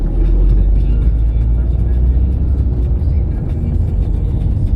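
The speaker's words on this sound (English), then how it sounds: "Traffic." Dense road traffic in Lagos, Nigeria, a loud continuous rumble of car and bus engines that stays steady throughout, with voices talking faintly underneath.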